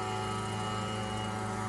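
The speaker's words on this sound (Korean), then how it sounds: "무인 헬기이고요." Unmanned crop-spraying helicopter flying overhead, a steady loud droning rotor and engine hum held evenly without pause.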